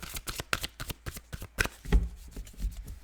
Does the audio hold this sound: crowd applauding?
no